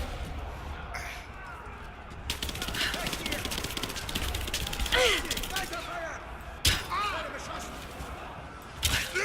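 Gunshots during a Rise of the Tomb Raider firefight: several sharp cracks and bursts over a busy game ambience with a few isolated loud impacts near the end, while someone talks in German throughout.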